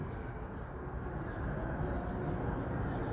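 Pen or chalk writing by hand during a maths lesson, a steady soft scratching that runs continuously through the short moment without talk.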